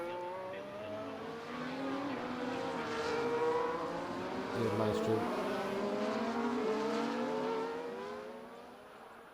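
Race car engines in the F1 24 video game whine and rise in pitch through repeated gear shifts, several cars overlapping at moderate distance, with a brief spoken word.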